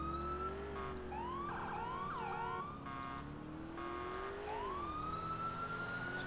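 Police car siren in the LCPDFR video game, a loud wailing and yelping tone that sweeps up and down continuously over steady engine rumble, with no talking.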